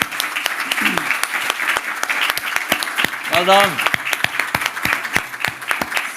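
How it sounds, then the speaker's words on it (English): A standing audience at a documentary premiere breaks into sustained applause, dense and fairly loud, with cheering voices rising in the middle and a person speaking over the clapping. "Let's stand and clap for them"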